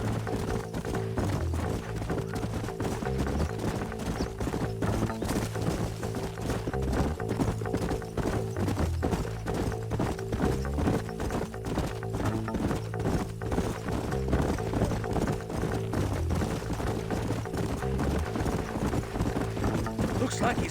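Horses gallop in Red Dead Redemption Remastered, a rapid, continuous drumming of hooves with an occasional whinny, set under a steady musical score and a voice speaking at times.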